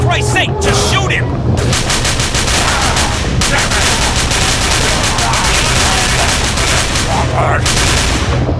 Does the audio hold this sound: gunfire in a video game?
yes